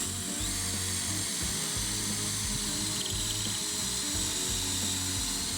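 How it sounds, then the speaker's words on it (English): Power drill boring angled pocket holes into a wood board through a pocket hole jig, a steady loud whirring grind with rhythmic low pulses as the bit cuts, running continuously throughout. "You're just letting the drill do the work, and you'll see the sawdust is coming out the hole in the back side of the piece."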